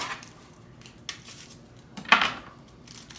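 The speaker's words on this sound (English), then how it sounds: "We're gonna cut the onion up." A knife cutting an onion on a board: a few separate, sharp chopping knocks and scrapes, near and fairly quiet, spaced irregularly with one louder, brighter stroke near the end.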